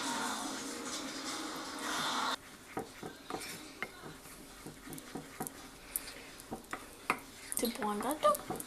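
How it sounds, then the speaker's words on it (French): A spatula stirs melted chocolate and butter into egg yolks in a bowl for a chocolate mousse, giving soft scraping and tapping strokes in an irregular rhythm after an initial noisy stretch, with voices in the background. "Je vais prendre une maryse. Donc je vais mélanger ça correctement."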